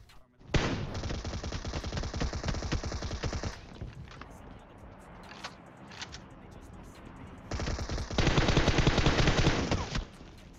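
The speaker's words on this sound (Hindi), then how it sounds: "हम दोनों भाई ने मिलकर सारी गोलियां चला दी" Rapid bursts of automatic gunfire from weapons in PUBG Mobile, a long sustained volley, a quieter stretch with scattered shots, then another heavy burst.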